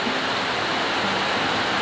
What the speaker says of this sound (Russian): Проливной дождь.